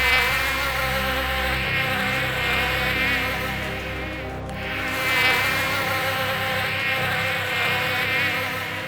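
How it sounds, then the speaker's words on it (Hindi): A small motor buzzes steadily like a housefly, a loud, close, continuous whine with a steady pitch that briefly dips in the middle before resuming. "इस मक्खी की आवाज वाले मोटर का।"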